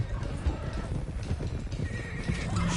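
A stallion neighs in Red Dead Redemption 2 over clopping hooves, a close, brief whinny with restless hoofbeats beneath it.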